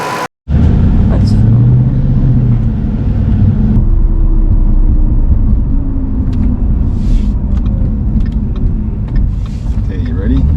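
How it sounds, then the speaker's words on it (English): Supercharged all-wheel-drive Ford Mustang with a VMP Odin supercharger running in a steady loud rumble, with a rising whine over the engine drone and a brief dropout at the start. "You gotta love that supercharger whine."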